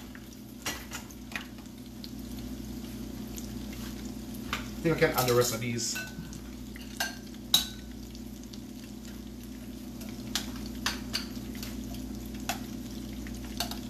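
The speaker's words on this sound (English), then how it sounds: "Alright, so that's frying over there." Fried rice sizzles in a hot pan as a steady frying hiss, broken by a burst of stirring and scraping around the middle and a few sharp clinks, with someone talking over it.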